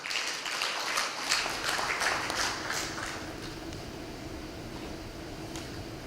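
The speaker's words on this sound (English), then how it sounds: "Let's welcome him with a round of applause." Audience applause at a Tanzania–Uganda investment and trade forum, fairly loud scattered clapping that settles into a steady, fading patter over several seconds, with a faint hum beneath.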